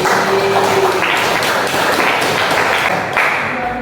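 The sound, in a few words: classroom applause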